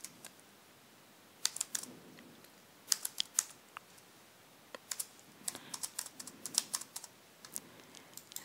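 Quick bursts of keystrokes on a computer keyboard as an email address is entered, irregular clusters of close, crisp clicks with short pauses between groups, no talking.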